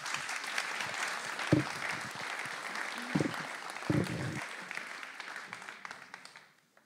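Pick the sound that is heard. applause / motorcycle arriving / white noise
applause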